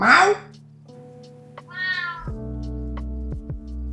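A pet cat meows in a long rising and falling call close by, its tone clear over a steady low indoor hum, with a few short clicks and a low thump near the end.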